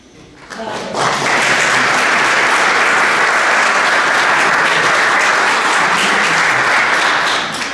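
Sustained, loud applause from an audience at an athletics club's 45th anniversary ceremony fills the room, rising quickly after a quiet start and holding steady throughout.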